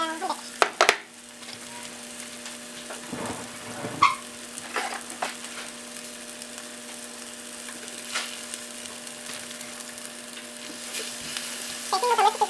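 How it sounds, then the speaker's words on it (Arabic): Onion and mushroom with a little soy sauce fry in a small amount of oil in a pan, a continuous light sizzle with clattering stirring and scraping at the start and end, a low steady hum underneath. "هنعمل بقى في طاسه تانيه نحط فيها قليل من الزيت، وهنشوي بصل مع حبه من المشروم وصويا صوص بسيط"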